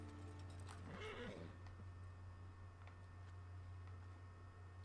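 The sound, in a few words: horse neighing in video game Red Dead Online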